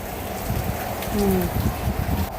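Heavy rain pours down in Hyderabad during a thunderstorm, a steady, dense hiss of drops on surfaces with a slight swell in the middle and no clear speech.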